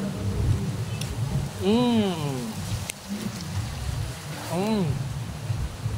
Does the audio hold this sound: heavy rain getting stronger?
yes